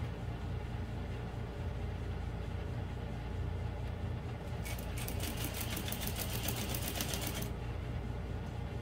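Juki DDL-8700 industrial sewing machine stitching a vinyl bag, running in a rapid, evenly pulsed burst of about three seconds over a constant low motor hum.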